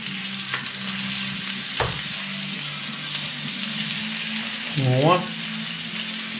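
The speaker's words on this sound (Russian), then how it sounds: "Сейчас с одной стороны пожарится, я переверну и, наверное, крышечкой накрою." Meat cutlets sizzle and fry steadily in a pan on a home stove, a constant crackling hiss throughout with a brief clatter near the start and a short louder burst of stirring or movement toward the end.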